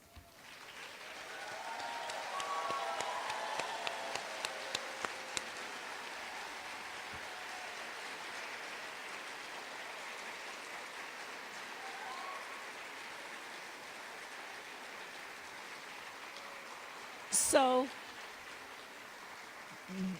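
Audience applause at a white coat ceremony for a medical class, a broad steady clapping that swells after a couple of seconds and holds through the clip, with a brief spoken word near the start and a sharp noise toward the end.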